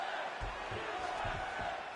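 Crowd noise from the UFC 5 fighting video game after a grappling exchange: a steady, distant roar of cheering arena audience with faint low thumps underneath.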